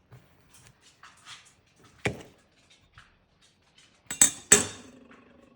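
A knife cuts into a homemade ice cream cake, giving a few soft, close taps and clinks of the blade against a plate or dish in a quiet kitchen, with two sharper knocks near the end.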